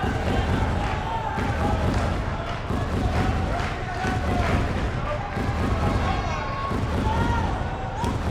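Crowd in an arena during a WWE 2K19 wrestling game, a dense steady roar of cheering with thuds and bursts, loud and continuous, mixed under commentary talk.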